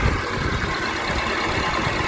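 A 2005 Honda CR-V engine idles steadily just after an alternator replacement, giving a close, even mechanical hum with no talking.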